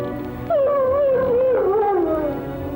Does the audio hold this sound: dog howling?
yes